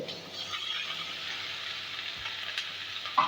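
Capsicum and small tomatoes sautéing in a pan for white macaroni give off a steady, fairly faint sizzle and stir, with a brief clatter near the end.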